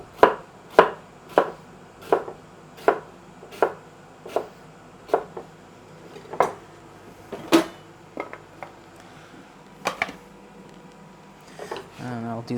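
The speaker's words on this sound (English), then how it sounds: "So for the salad, I'll just cut half rings." A knife on a cutting board slices a pepper into half rings for a salad, giving steady, evenly spaced chops close by that slow and scatter toward the end, followed by a quiet rustle.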